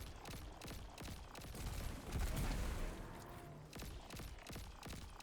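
Sustained automatic weapon fire from the Destiny 2 game empties a full magazine in a rapid, even stream of shots under a steady background din.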